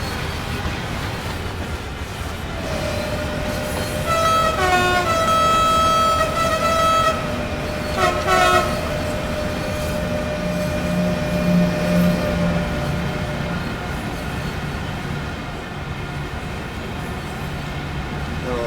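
Siemens Vectron locomotive in Train Sim World 4 on an S-Bahn Vorarlberg freight run, a steady loud rumble of rolling stock with sustained tonal whines and a horn-like toot partway through, running continuously under occasional talk.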